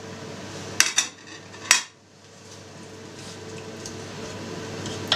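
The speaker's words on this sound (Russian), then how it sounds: "смазываем сковородку растительным маслом и в первую очередь обжарим грибы" A few metallic clinks of utensils against a pan, then a soft, steady sizzle of mushrooms frying in vegetable oil that gradually grows louder.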